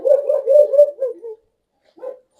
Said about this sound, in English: It's as if the place is filled with a lot of dogs.